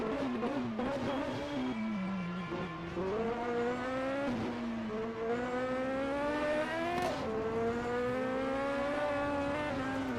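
A 1978 Ford Capri 3 Turbo race car at a German racing championship round holds a loud, continuous engine howl that climbs and dips in pitch through gear changes.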